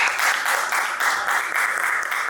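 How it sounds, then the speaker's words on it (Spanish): Applause from an audience at a talk on love and utopia, a brief dense patter of many hands clapping at steady volume, with no voices over it. "un aplauso para ustedes"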